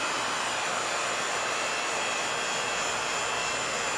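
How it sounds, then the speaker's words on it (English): A vacuum chamber pump drawing air out of a rigid glass container, giving a steady, loud, whooshing mechanical roar with a faint constant whine and no pauses. "Let's turn the vacuum chamber on, suckle the air out and see what happens."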